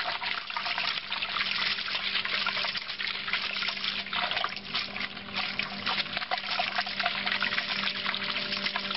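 Liquid sloshes and pours steadily with a wet, swirling hiss as sugar is stirred into juice for white wine, continuous and close, no voices.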